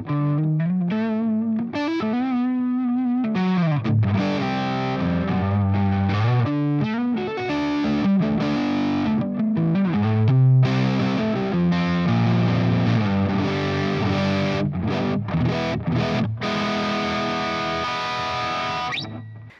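A distorted Framus prototype electric guitar plays riffs and sustained chords, loud and gritty with a swirling effect, continuing steadily without any voices.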